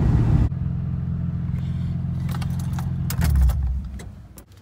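A car with a 1J engine driving, heard from inside as a steady low engine drone with light rattling and jingling, swelling into a heavier rumble near the end before easing off.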